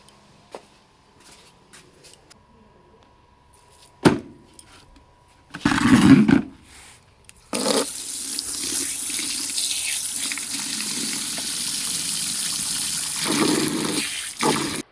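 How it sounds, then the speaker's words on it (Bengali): Water splashed from a bucket, sprinkled over a surface at a home: two short splashes early on, then a steady, loud rush of pouring water that runs close by without pause to the end. "এই যে এমনি খালি উপরে একটা বালতিতে জল দিয়ে উপরটা খালি এমনি ছিটা দিব"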